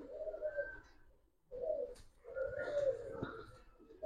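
Giribaz pigeons coo close by in soft throaty bursts, two or three rolling coos separated by a brief pause, with faint bird chirps in the background.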